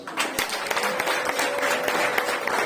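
Audience applause at a choir competition, a dense patter of many hands clapping steadily and fairly loud throughout, with no pauses.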